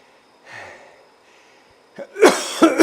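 A cyclist breathes hard just after a Zwift race: a faint exhale early on, then a burst of loud, rough gasps and panting near the end.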